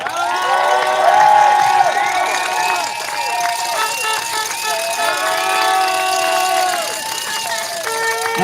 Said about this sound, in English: let's give her a big applause once again.